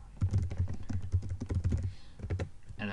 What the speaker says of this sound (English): And then just type something here just to test it.